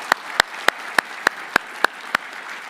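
Eight sharp, evenly spaced claps in unison from a congregation at an Easter joint worship service, ringing out in a steady beat over a quiet room.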